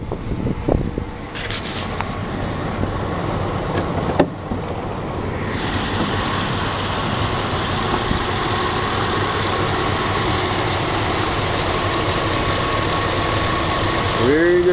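A 2000 Dodge 2500 4x4 with the 5.9 engine idles steadily under an open hood, a close, even low rumble with a faint rhythmic knock, and a brief clunk early on.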